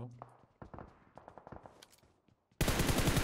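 PUBG video game gunfire: scattered single shots and short bursts, followed by a sudden loud, dense rattle of rapid fire, with players talking in between.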